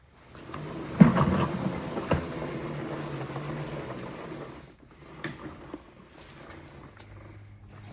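A Karcher S 4 Twin walk-behind push sweeper rolls over outdoor pavement with a deep rumbling churn of brushes for several seconds, then drops to a quieter rattle with a few knocks.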